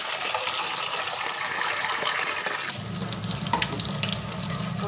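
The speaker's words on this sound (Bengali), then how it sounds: "চলো ডালটা ধুয়ে দিই।" Lentils are washed under a running kitchen tap, with water gushing steadily into a sink and the splashing shifting partway through as the stream hits the grains, close and without talk.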